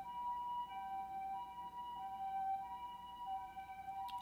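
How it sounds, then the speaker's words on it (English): Emergency vehicle sirens passing an apartment in Osaka, Japan: steady, piercing tonal wails that overlap and shift slightly in pitch, heard from indoors and continuing without pause. "I don't know why I keep hearing sirens go by my apartment whenever I decide to do tarot."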